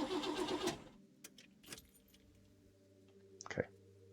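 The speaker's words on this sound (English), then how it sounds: "Let's start the car." Car keys jangle loudly up close for a moment, followed by quieter clicks and a rattle as they turn in the ignition, then a short mechanical clunk near the end.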